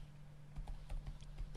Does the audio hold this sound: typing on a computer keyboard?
yes